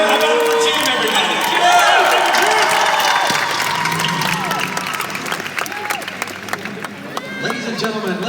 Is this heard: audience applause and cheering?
yes